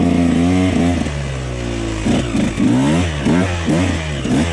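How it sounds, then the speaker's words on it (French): A motorcycle's rear wheel spins and slips on pieces of wood, its engine revving hard in loud, wavering bursts with clattering under the roar; a rebuilt engine converted from a two-ring to a single-ring piston. "la roue arrière elle patine là sur les bouts de bois"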